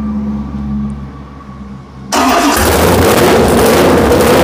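Low rumble of a 512ci Mopar big-block V8 rises, then catches and roars into a loud, dense, steady run that dominates everything; no talking.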